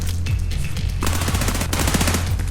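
Rapid automatic gunfire bursts in Escape From Tarkov, loud and close, with a few single shots before a sustained rattling volley of game weapons.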